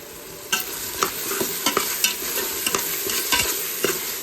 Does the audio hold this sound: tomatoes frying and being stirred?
yes